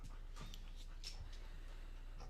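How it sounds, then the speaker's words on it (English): A dog panting close by with a few soft whimpers, quiet breathy bursts over a low steady hum. "Hello, dog."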